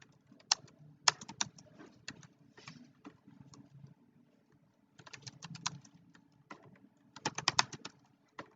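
Keys clattering on a computer keyboard as web code is typed, bursts of rapid clicks separated by short pauses, close and fairly quiet.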